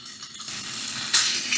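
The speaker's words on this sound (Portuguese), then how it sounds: "Vamos fritar o frango até dourar." Chicken sizzles and fries until golden steadily in a hot pan, a continuous crackling hiss that briefly grows louder near the end.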